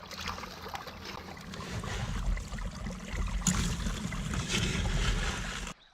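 Water rushes steadily through a gold sluice as dirt is washed down it, a close, continuous splashing flow that holds for several seconds and then cuts off abruptly.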